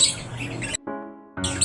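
A pet hen squawks in two loud, harsh bursts separated by a short gap filled with a lower tonal cry, heard up close right after a ring is fitted to its leg.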